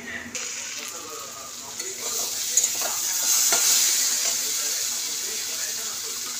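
Water is poured into a pan of vegetables and tomatoes that have been cooked down for a Bengali fish curry, giving a steady rising sizzle and hiss with some stirring clinks. It stays fairly loud and close throughout.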